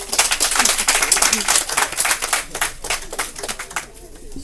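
A studio game-show audience applauds, dense rapid clapping that is loud at first and gradually thins out toward the end.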